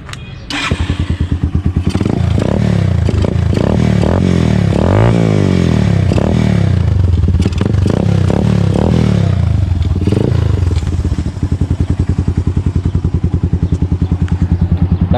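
Suzuki GS 150 motorcycle engine starting and idling up close, a loud steady thumping putter with a few revs rising and falling before settling, plus some mechanical clatter.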